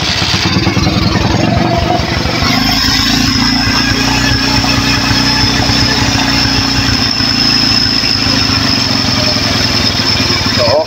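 A Bajaj CT100 motorcycle engine idles steadily up close, loud and continuous with an even low chugging throb for the whole stretch, sounding healthy after being serviced for a no-start problem.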